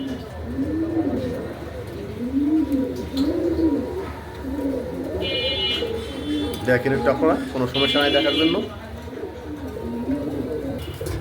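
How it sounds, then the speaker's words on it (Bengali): A pair of nun pigeons cooing in a repeated, rolling pattern throughout, close by, with someone talking over them and some brief higher chirps. "এই জানি এক জোড়া আছে নান কবুতর আমার কাছে"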